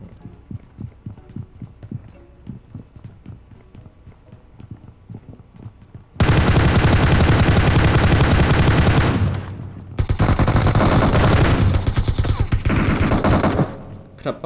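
Automatic rifle gunfire in PUBG Mobile: quieter scattered shots at first, then loud dense sustained bursts of rapid fire, a brief pause, and another long close burst.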